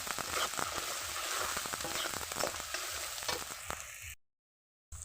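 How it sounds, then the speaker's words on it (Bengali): Potatoes fry in a pan with ground black pepper, a close, steady sizzle broken by the scrape and clatter of stirring, before cutting to silence and briefly resuming. "তো আলুটা আমার প্রায় ভাজা ভাজা হয়ে এসছে।"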